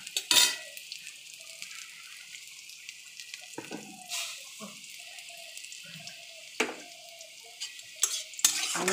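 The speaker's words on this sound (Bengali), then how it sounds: "এবার রসুনটা ভাজা ভাজা হয়ে এসছে, গন্ধটাও ভালো ছেড়েছে" Garlic sizzles softly in hot oil with a few sharp clanks of a spoon against the pan, quiet frying between scattered louder scrapes and no talk.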